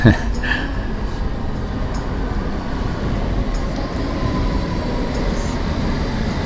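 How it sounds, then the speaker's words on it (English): A London Underground train rumbles steadily nearby, a continuous low roar of a carriage in motion heading toward Baker Street, with a brief clatter at the start. "I'll get on the train coming in."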